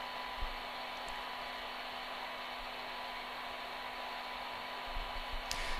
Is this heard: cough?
no